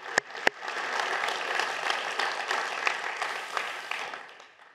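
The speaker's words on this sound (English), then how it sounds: "let's go ahead and clap that Jesus redeems people" A church congregation breaks into clapping, starting with a couple of sharp isolated claps and then swelling into steady, moderately loud group applause that fades out at the end.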